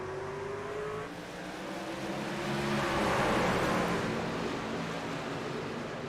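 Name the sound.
race cars accelerating at the restart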